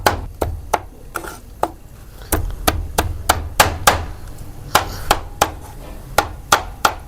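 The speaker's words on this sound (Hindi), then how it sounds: "छोटे छोटे स्लाइस इसके करने हैं, छोटे छोटे पीस बनाने लगा हूँ मैं।" A knife chopping fried potato fries into small pieces on a board, a series of sharp, close, evenly spaced chops with brief pauses, loud and clear with no talk.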